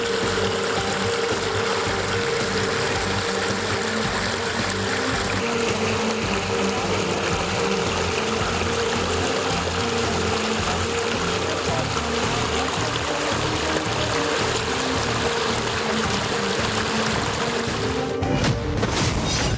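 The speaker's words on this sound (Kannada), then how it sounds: "ಜಮೀನಿಗೆ ಹರಿಯುತ್ತಿದೆ ನೀರು" Water pours steadily from a farmer's electric pump set into a field, a continuous rushing flow under a low engine-like drone, ending in a brief rustle.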